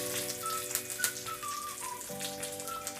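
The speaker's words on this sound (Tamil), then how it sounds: "கடுகு பொரிய ஆரம்பிச்சிச்சு. இப்போ நம்ம கருவேப்பிலையை சேர்த்துடலாம்." Mustard seeds and curry leaves crackle softly in hot oil as they are tempered for peanut chutney. Fine, irregular popping sits under a steady low hum and a faint tonal whine.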